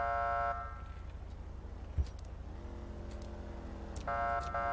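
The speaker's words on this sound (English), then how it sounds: "And this is your air horn." A police vehicle air horn in GTA 5 gives two short loud blasts, one at the start and one near the end, with a quieter vehicle hum in between.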